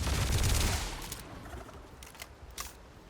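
Rapid automatic gunfire in the space game Starfield, a loud burst at the start that tapers into scattered clicks and a few sharp shots, with no voices.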